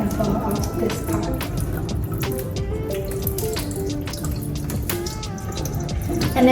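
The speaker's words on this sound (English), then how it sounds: "And then you're gonna pour the water out." Water pours off rice being rinsed for Hoi An chicken rice, a steady splashing trickle like a running sink with scattered drips throughout, close and continuous.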